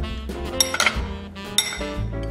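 A spoon clinks against a dish while a banana coated in mayonnaise is rolled in peanuts for homemade banana croquettes, giving a few close, light metallic taps and scrapes at an irregular pace.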